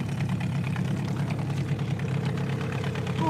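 Outboard boat engine running on a river, a steady mid-pitched motor drone with slightly raised revs, even and continuous throughout.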